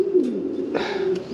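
A pigeon coos close by in a soft, low, rolling call with a couple of throaty pulses, clear against a quiet background.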